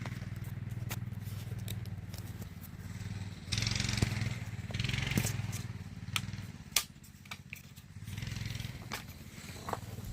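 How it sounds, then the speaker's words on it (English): A go-kart being ridden outdoors, its small engine droning steadily at a distance throughout, rising louder in stretches, with occasional scrapes and clicks on top. "riding the go-kart"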